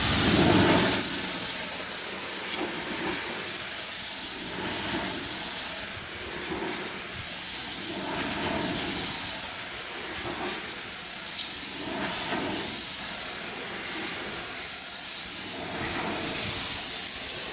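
A 5.5 GPM, 3,500 psi pressure washer sprays a chemically treated wooden deck, a loud continuous hissing jet with rhythmic surges every couple of seconds as the wand sweeps back and forth, close and steady with no talk.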